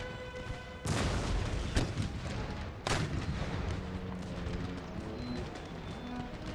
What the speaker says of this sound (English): I want some cannon fire out on those horses.